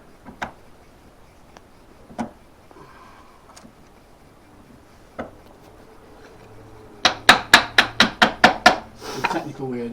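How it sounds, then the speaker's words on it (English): An improvised mallet strikes a stainless bolt during repair work on a Marcos Mantula. A few scattered knocks come first, then a quick run of about eight sharp, ringing metallic hits up close. "Improvisation mallet."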